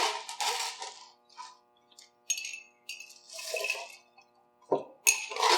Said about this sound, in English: Let's add some ice to it, too.